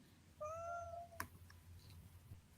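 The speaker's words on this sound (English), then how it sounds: "Cat talking." A cat gives a single drawn-out meow, faint and slightly distant, followed by a sharp click and quiet background hum.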